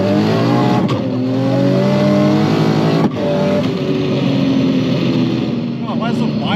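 A 1200-horsepower Barra-engined Mustang accelerating hard with anti-lag, a loud close engine roar climbing through the revs with a brief break at a shift, and people talking over it.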